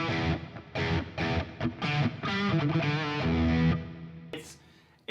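A distorted electric guitar, a 335-style semi-hollow, plays a run of chords and notes, loud and gritty, ending in a brief noisy burst.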